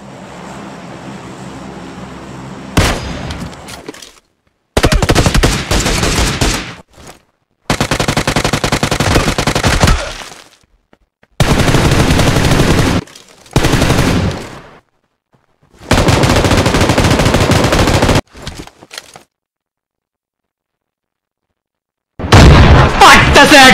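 Loud bursts of rapid automatic gunfire and single shots from the shooter game PUBG Lite, in several separate bursts broken by abrupt silences, close and heavy.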